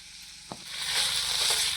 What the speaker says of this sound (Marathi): आता ह्या आपल्या तेलावर चांगल्या अशा भाज्या फ्राय करून झालेल्या आहे